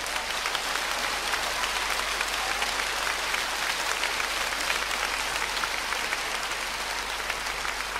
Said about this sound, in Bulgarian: Вашите аплодисменти за композитора Красимир Гилмезов.